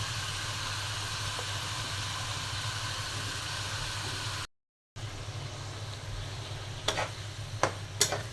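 Spinach and green chilies fry in a fish curry in a pan on a home stove, giving a steady soft sizzle with a brief dropout midway and a few sharp clicks of stirring near the end.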